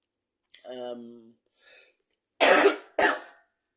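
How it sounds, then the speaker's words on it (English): Two harsh, close coughs follow a couple of short vocal sounds, with silence between them. "Sorry for the coughing."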